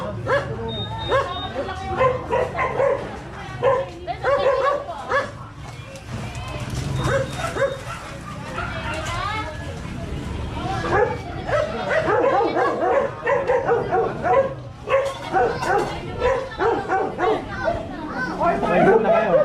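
A dog barks and yips repeatedly amid busy overlapping chatter from several nearby people.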